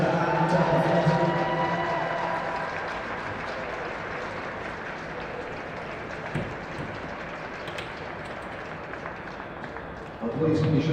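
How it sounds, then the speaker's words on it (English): Sustained applause from a stadium crowd at a national schools football final, a dense steady wash of clapping and crowd noise lasting throughout, with a voice over a loudspeaker at the start and end. "We give both our teams a round of applause."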